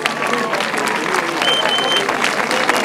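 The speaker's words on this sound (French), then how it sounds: "Allez, applaudissements pour Wolf, s'il vous plaît." A grasstrack racing crowd at Marmande applauds rider Richard Wolf, with dense, fairly close clapping mixed with voices and a whistle or two throughout.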